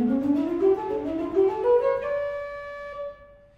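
Organ playing a rising scale-like run, a quick ascending pattern of sustained tones that climbs and settles into held notes, played alone without talk.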